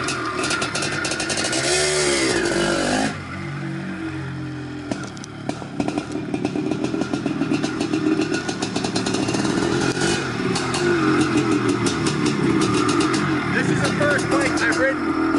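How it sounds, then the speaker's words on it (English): A 1983 Maico 490 Spider motorcycle is kick-started with its decompression release, and the engine fires and keeps running loud and close with a raspy two-stroke rattle, while people talk over it. "Decompression release starts first kick every time."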